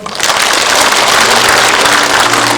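Audience applause at a Korean War anniversary memorial ceremony, a loud, dense wash of clapping that swells in quickly and holds steady throughout.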